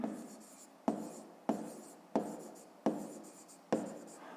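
A pen writes on paper in a math lesson, with about six quick strokes, each a sharp scratch that fades off, at a close distance and quiet level. No one speaks.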